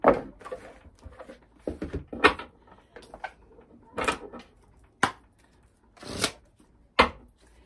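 Oracle cards being shuffled by hand in a quiet room, with repeated soft riffling and slapping bursts at irregular intervals, close and fairly quiet, with no talking.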